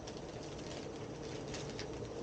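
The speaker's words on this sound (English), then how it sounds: "Some sort of bird, man, it squawks." A bird calling near an abandoned sports ground, with soft repeated coos under a steady wash of outdoor background noise, faint and at some distance.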